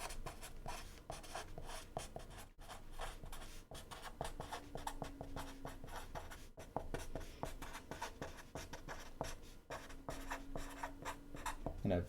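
Pen or marker strokes scratching steadily across a writing surface during a university math lecture on graph theory, a continuous rhythmic scribbling close to the microphone with no talking.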